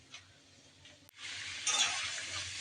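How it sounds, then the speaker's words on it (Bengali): Onion and chili frying with prawns in a pan: a soft clink, then a steady hiss of sizzling oil that swells and holds, close by, with no talk. "তারপরে পেঁয়াজ মরিচ ভেজে নিচ্ছি"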